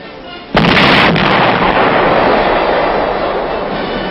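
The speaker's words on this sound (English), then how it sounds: "A gun crew fires a 105mm howitzer." A 105mm howitzer fired by a gun crew: a single heavy, close blast bursts in suddenly, then rolls on as a long, loud, rumbling wash that decays slowly.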